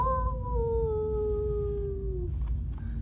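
A voice imitates a dog howling: one long, sustained, slowly falling howl lasting about two seconds, loud and close, in the middle of a children's story being read aloud, with a short murmur following it.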